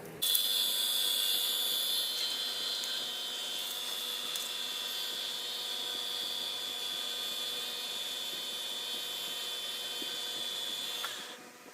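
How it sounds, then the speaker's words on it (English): A motor-driven buffing wheel loaded with red compound polishes a brass bullet casing for a pen, giving a steady, high-pitched whine over a soft background rumble for the whole span before cutting off at the end. "So now I got my buffing wheel hooked up on here for the red Triple E"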